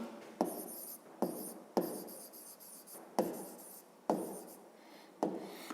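A pen writes on paper during a fifth-grade maths exercise, with about six quick scratchy strokes that each start sharply and trail off, close and fairly quiet, and no talk over them.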